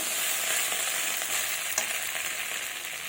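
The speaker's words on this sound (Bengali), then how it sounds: "এবার ভালোভাবে মশলাটাকে কষিয়ে নেব।" Spice paste for a Bengali bata fish curry sizzles and fries steadily in a pan, a continuous bright crackle with a small clink from stirring, close and alone.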